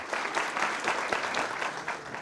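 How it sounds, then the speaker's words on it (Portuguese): An audience applauds a speaker mid-speech: a short burst of dense, even clapping, moderately loud and unbroken, with no talking over it. "Durante o discurso, foi aplaudido várias outras vezes."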